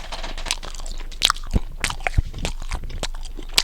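Crunchy pizza from Riverside House of Pizza being bitten and chewed right at the microphone, with a series of sharp close crunches and wet chewing sounds over about four seconds and no talking.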